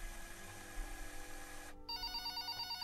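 A telephone rings in a played Talking Ben cartoon clip, a faint electronic trilling ring that starts after a short stretch of low background hum, repeating in quick even pulses with no voices.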